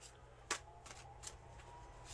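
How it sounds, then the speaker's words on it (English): Tarot cards being shuffled during a reading, with soft riffling and a few sharper snaps of the deck, close but quiet against a low background hum and no talking. "Crypto, I'm doing a cleansing shuffle for you."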